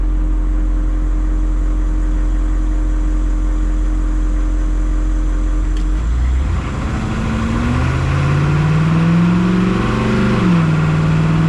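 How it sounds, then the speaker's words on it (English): A 1987 AM General Humvee engine heard from inside the cabin: a loud steady drone at first, then the engine opens up at full throttle with rising, shifting pitch as it accelerates. "It's full throttle right now."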